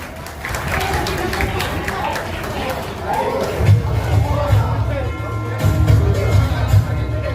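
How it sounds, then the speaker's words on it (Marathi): An audience claps at a village council's retirement felicitation ceremony for headmaster Jagdish Mhatre. Scattered applause rises within crowd chatter, with talking and a low amplified hum running underneath. "आजचे सत्कारमूर्ती सर्वांनी टाळ्या वाजवायच्या आहे"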